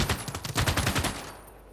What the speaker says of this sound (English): Machine guns even.